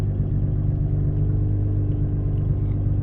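A Nissan GT-R rolls slowly out of a garage and down a driveway, giving a steady, close, low engine rumble that holds an even level throughout, with no talking.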